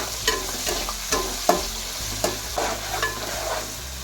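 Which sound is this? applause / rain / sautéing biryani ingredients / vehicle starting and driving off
sautéing biryani ingredients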